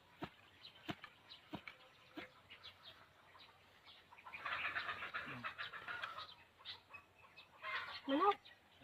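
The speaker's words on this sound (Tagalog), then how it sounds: "Manok." Chickens clucking and calling at a rural countryside home, faint and somewhat distant, with scattered sharp knocks and a louder flurry of bird sounds midway and near the end, while quiet voices talk in the background.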